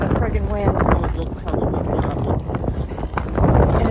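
Gusty wind buffets the microphone on frozen Chamberlain Lake in Maine during an ice fishing and camping trip: a continuous loud roar that rises and falls, with muffled voices partly buried beneath it.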